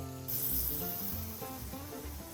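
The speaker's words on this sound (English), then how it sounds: "we've been cooking the sausage patty for about 2 minutes" A sausage patty sizzling in a sauté pan, a steady hiss of frying fat with a low background hum and some music-like tones underneath.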